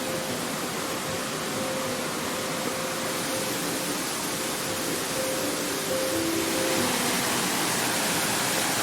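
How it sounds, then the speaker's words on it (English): Rushing waterfall in a video game, a constant, even hiss of falling water holding steady throughout with faint tonal game sounds layered underneath and no voices. "Ah, the sound of the rushing water really does sound nice."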